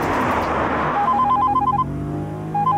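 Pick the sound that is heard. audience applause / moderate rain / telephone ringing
telephone ringing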